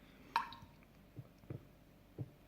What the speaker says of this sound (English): As a little variation, you can have a dripping tap.